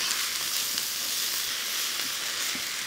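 Potato pieces sizzle steadily in hot oil during stir frying, a dense, even hiss that carries on without a break.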